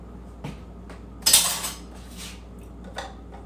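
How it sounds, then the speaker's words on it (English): Metal silverware and food containers clatter as they are handled while packing meals, a few light clinks followed by one sharper, louder rattle and scattered softer taps nearby. "Yeah, I'll have silverware."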